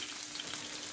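Chopped ginger and garlic sautéing in a pan for a cabbage and egg stir fry, giving off a steady, even frying sizzle that holds close and constant throughout, with no voices.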